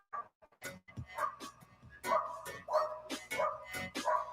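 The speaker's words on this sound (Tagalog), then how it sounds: "Yung aso dito sa kapitbahay namin, nakikipagsabayan din sa ingay ni host." A neighbour's dog barks repeatedly, sharp yapping barks in an uneven run with a few whimpering yips mixed in, heard at moderate distance and fairly loud.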